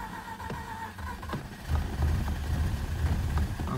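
Mazda RX-8 rotary engine with low compression struggling to run, a weak uneven idle that rises into a rougher, louder rumble as the throttle opens, with no talking.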